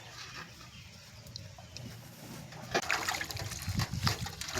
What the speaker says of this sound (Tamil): இப்போ முருங்கைக்கீரையை அலசி எடுத்துக்கலாம்.